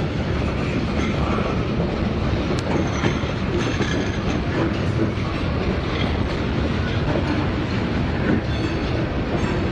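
A K83 freight train rolls steadily past at Bevier St. Yard, its continuous loud rumble and wheel clatter filling the whole stretch without pause.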